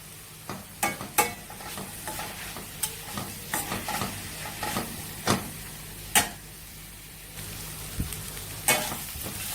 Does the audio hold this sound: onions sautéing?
yes